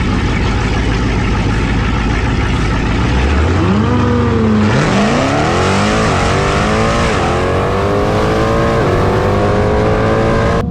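A 1000-horsepower Jeep Trackhawk roars through a drag race, its engine climbing in pitch through hard upshifts, loud and sustained with another race car's drone beneath it.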